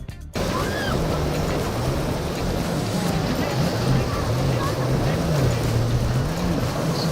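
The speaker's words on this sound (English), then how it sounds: "when he lost control of his boat in the treacherous condition of the ocean, it almost sunk" A boat engine drones loudly and steadily with a wavering pitch, surrounded by dense rushing water and wave noise throughout, as the boat nearly sinks in treacherous ocean conditions.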